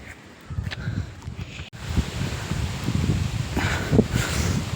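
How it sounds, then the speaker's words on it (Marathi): Wind blows across the open hilltop of Asherigad fort, a moderate rushing roar with gusty rumble that builds steadily through the clip. "वरती भरपूर वारा वाटतोय"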